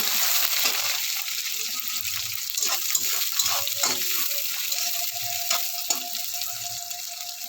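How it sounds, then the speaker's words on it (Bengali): Sliced onions fry in hot oil with a constant crackling sizzle, broken by occasional scrapes and knocks of a spatula moving them around the pan. "পেঁয়াজগুলো লাল লাল করে ভেজে নেব।"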